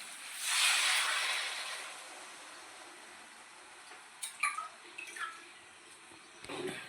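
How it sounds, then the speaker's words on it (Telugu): Water is poured into a pot of mutton curry with potatoes, a broad hissing splash swelling early and then trailing off, followed by a few small clinks and drips, with no talking. "వాటర్ పోసుకుందామండి"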